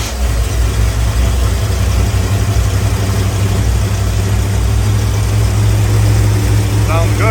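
A 1984 Corvette with a new starter and fresh spark plug wires idles steadily, a loud, even, low engine rumble throughout with no audible skips.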